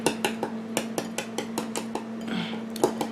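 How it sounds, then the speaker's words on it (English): A whisk stirs powder into a low-carb lava cake mix in a bowl, tapping out a quick, uneven run of bright metallic clinks against the sides, close and clear. "keep whisking away until it is combined"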